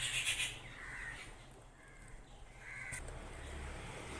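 A crow caws a few times, loud and close at the start then again later, while pecking at a ripe red papaya outdoors, with steady background noise throughout.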